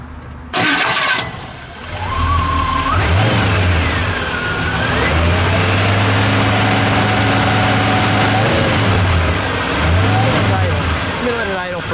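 A 1956 Chevrolet Nomad station wagon with a 265 V8 cranks briefly, catches and fires, then settles into a loud, steady rumble with a few rising revs, close by, as people talk over it.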